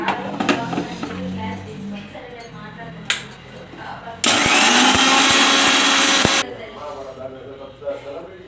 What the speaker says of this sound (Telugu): ఇవి రెండు మిక్సీ పట్టేసుకుందాము